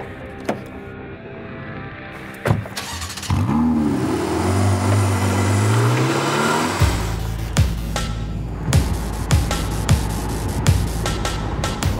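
A sports car pulls away and accelerates, its engine note rising through gears with rumbling revs after clicks and door or window sounds at the start, loud and close.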